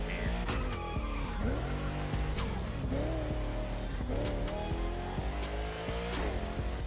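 A Koenigsegg driving off-road in The Crew Motorfest racing game, its engine revving hard and climbing through repeated gear shifts, with tire squeal and skidding mixed in, loud and close throughout.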